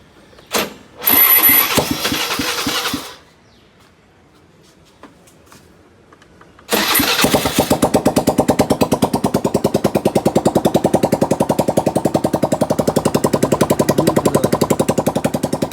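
A scooter with a newly fitted silencer: a few knocks and a short burst of noise, a pause, then the engine starts and settles into a steady, loud, rhythmic running drone.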